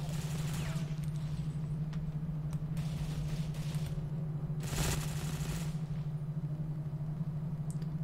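Gunfire in the Ghost Recon Phantoms video game, a few short crackling bursts over a steady low hum, the loudest burst near the middle, moderately loud and with no talk.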